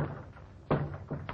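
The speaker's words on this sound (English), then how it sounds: "Close the door, Butch." A door swung shut inside a 1932 Western gangster film scene, a solid thunk near the middle followed by a second softer knock and a light tap, with quiet room tone and faint background hum.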